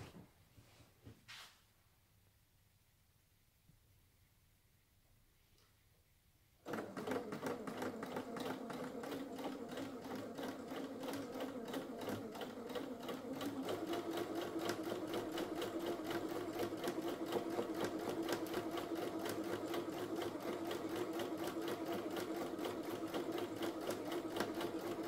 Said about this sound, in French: vous allez venir coudre à la machine à 1 cm sur tout l'arrondi